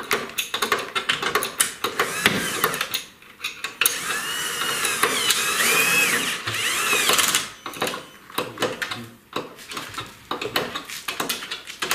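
A power tool tightens the final bolts on a Miele washing machine during a bearing replacement, giving rattling mechanical whirs and clanks in bursts near the microphone.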